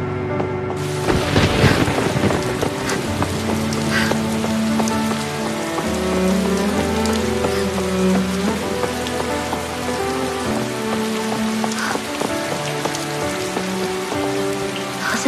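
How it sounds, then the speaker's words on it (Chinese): Steady rain falls across the whole stretch, dense and close. Low booms rumble under it, and music plays throughout. No one speaks. "要下雨了啊！"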